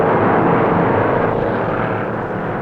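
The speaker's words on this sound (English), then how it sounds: "Jack Smith's Pontiac is moving at 153 miles an hour." Stock cars roar past in a continuous, loud, droning engine rush at the 1960 Daytona 500, with Jack Smith's Pontiac among them running flat out at about 153 miles an hour.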